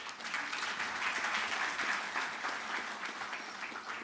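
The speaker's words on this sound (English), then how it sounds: "You need to clap for her." A university audience applauds a team of student innovators at an innovation and exhibition week, dense steady clapping of many hands lasting throughout at a moderate distance.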